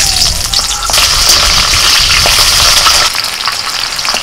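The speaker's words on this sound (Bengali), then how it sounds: "কড়াইতে যে তেলটা আছে ওই তেলের মধ্যে আমি দিয়ে দিচ্ছি এরকম একটু বড় বড় করে কেটে নেওয়া পেঁয়াজ" Large chunks of chopped onion hitting hot oil in a kadai give a loud, dense, continuous sizzle and crackle that holds throughout, with no talking.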